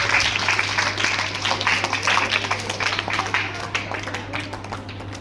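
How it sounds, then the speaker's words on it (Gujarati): Applause from an audience at a school child-safety event, clapping for the boys after their motivational play; dense, sustained crowd clapping throughout with a steady low hum underneath. "જોરદાર તાળીથી આ દીકરાઓને આપણે વધાવીએ."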